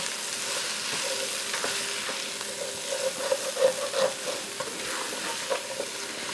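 Potatoes and sausage frying in a pan while being stirred, a steady sizzle with soft scraping and clinking of the utensil, a few louder stirs midway, close and with no talk.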